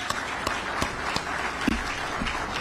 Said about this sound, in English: Let's give Aster another big round of applause